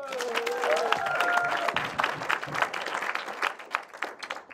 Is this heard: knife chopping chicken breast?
no